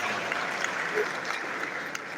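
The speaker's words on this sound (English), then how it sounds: "Please, another resounding applause for Professor Kabiruba" An audience applauds continuously at an induction ceremony for newly qualified medical doctors. The clapping is a dense, steady crowd sound filling the whole moment without any talking.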